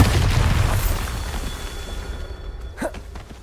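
A Bombarda spell explosion in Hogwarts Legacy, a deep booming blast that rumbles and fades over a few seconds, followed by a sharper crackling burst near the end.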